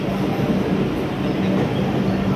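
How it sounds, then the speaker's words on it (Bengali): Howrah–New Delhi Rajdhani Express pulling out of Asansol Junction, a steady loud rumble of rolling coaches with faint clickety-clack, close by and continuous with no voices. "বেরিয়ে যাচ্ছে হাওড়া নিউ দিল্লি রাজধানী এক্সপ্রেস।"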